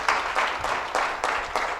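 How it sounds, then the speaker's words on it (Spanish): A church congregation applauding together, a steady wash of close clapping from a crowd with a few rhythmic surges. "¿Por qué no les damos un fuerte aplauso, por favor?"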